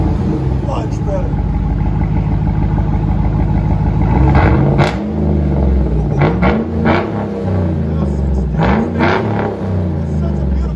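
Chevy 6.2L V8 with the muffler, resonator and tailpipe cut off, idling with a loud low rumble and then revving in repeated rising bursts, up close, with voices talking over it.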